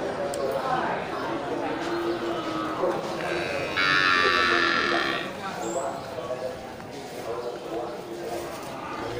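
Cattle, including Simmental and Limousin fattening stock, at a village livestock market, with a cow's moo rising midway over a busy background of crowd chatter and people talking nearby.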